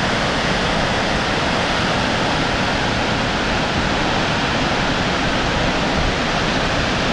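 Marokopa Falls in New Zealand roars as a steady, loud broadband rush of falling water, constant and close with no variation, drowning out everything else.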